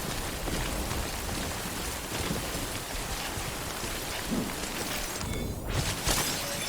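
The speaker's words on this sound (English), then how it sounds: "I shouldn't stay in the rain too long though." Steady rain pours in the game Death Stranding, a dense even hiss of drops on surfaces, with a few heavier thuds and a brief sharper burst near the end.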